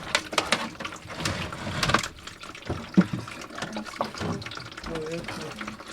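Water gushes and splashes in bursts as it drains out of a camper van's accumulator tank, with people talking and laughing over it.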